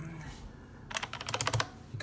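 Keycaps are pressed onto an IBM Model M mechanical keyboard, giving a quick run of sharp plastic clicks and snaps close up over faint background hiss, with one more click at the end.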